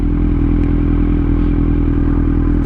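A Kawasaki Z900 motorcycle rides through a big city, its engine a loud, steady low rumble with a constant throbbing drone and faint clatter throughout.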